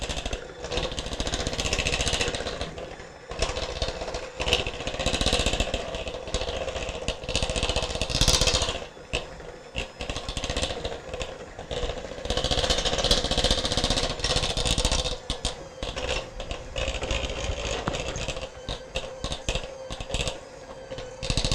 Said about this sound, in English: I'm going to mix this so it's nice and smooth